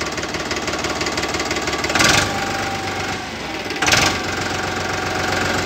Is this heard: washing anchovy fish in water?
no